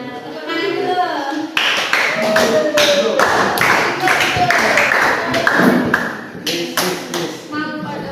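A classroom of children claps hands together in quick rhythmic bursts, a dense close patter of sharp claps, with voices heard at the start and end.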